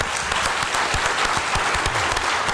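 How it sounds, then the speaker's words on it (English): An audience at a public lecture on emerging viral diseases gives a full, sustained round of applause, a dense wash of clapping filling the room with no talk over it. "I would ask you to give a round of applause."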